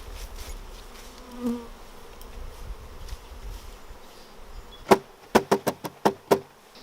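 Honey bees buzzing as they are shaken off hive frames while making mini nucs, a steady hum followed by a rapid series of sharp knocks as the frames are banged.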